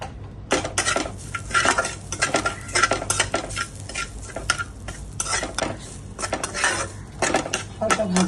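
Sponge gourd pieces fry with salt and turmeric in a wok, a metal spatula clattering and scraping in busy bursts over a soft sizzle.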